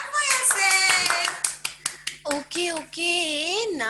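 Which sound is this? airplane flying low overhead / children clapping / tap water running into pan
children clapping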